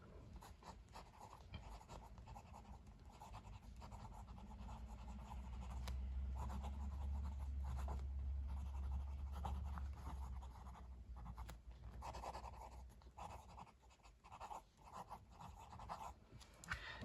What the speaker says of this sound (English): So let's do some writing.